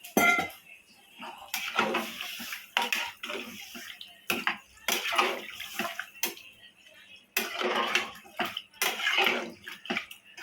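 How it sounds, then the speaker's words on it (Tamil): Water splashes in several bursts as a tumbler is poured into a cooking pot of squid curry on a home stove, with occasional metallic clinks of utensils close by. "லைட்டாக மட்டும் தண்ணி விட்டுக்கிறோம் ஒரு டம்ளர் அளவு தண்ணி"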